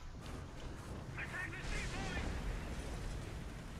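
Bombs exploding in War Thunder, with Russian tier 4 vehicles: distant muffled rumbling booms rolling under a low, steady background, faint overall and heard from afar.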